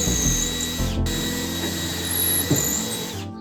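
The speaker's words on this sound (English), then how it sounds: "we're going to drill 3 holes through both pieces." A power drill boring holes through two clamped pieces of plywood, a steady close whine that stops briefly, then resumes with a grinding bite into the wood.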